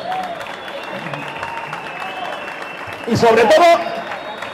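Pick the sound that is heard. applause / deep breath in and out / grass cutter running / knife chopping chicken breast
applause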